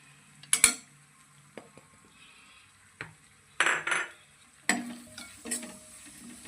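Spices such as Kashmiri chili, hot chili powder, turmeric, dry mango powder and coriander-cumin powder are stirred into tomatoes and onions in a pan for a fenugreek, pea and cream curry, with scattered spoon scrapes and clinks and a soft sizzle.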